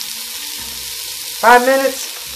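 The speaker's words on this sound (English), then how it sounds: "you want to cook your onion and get them translucent" Onion and garlic sautéing in a pan give a steady, soft sizzle throughout, with a short spoken phrase over it partway through.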